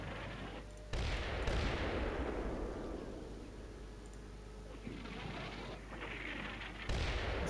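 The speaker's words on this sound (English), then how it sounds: "It's a serious barrage." A heavy artillery barrage from the PC war game Combat Mission: Shock Force 2 rumbles through a continuous roar, with loud blasts breaking in at the start and again near the end.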